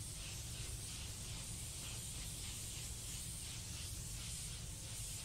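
A spray gun lays a third coat of Createx Candy2o candy red paint over chrome, giving a steady, unbroken hiss that holds at the same loudness throughout.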